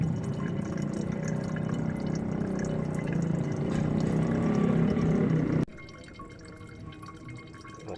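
Brake fluid drips and trickles from a truck clutch master cylinder being bled of air on a Toyota Dyna or Hino Dutro, a steady close wet patter that drops abruptly to a quieter trickle near the end.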